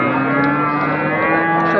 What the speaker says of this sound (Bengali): সব বড় বড় গরু